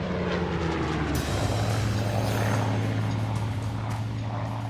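A WWII Battle of Britain fighter aircraft with a 1,030 horsepower engine roars in a steady, loud drone with strong low engine tones, a brief surge in noise partway through, and no speech.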